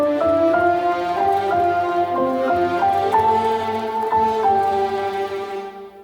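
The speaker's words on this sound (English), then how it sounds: "So we're going to have on one side horns and the other side violas." Orchestral Christmas melody split between horns on one side and violas on the other, sustained tonal notes stepping through a tune at a steady moderate loudness, fading at the end.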